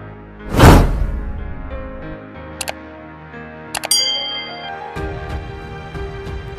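A bright bell-like ding rings out after a soft swoosh, followed by a couple of shorter metallic chimes over faint background noise.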